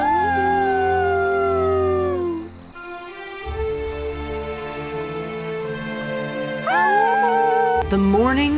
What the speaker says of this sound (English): He and Spot looked up at the stars and howled together.